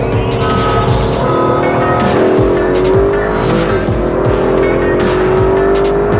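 An Aston Martin DB11 and a Mercedes accelerate side by side in a roll-on race from 80 kph, engines droning and climbing steadily in pitch through the gears, loud and close with a rising whine and wind rush.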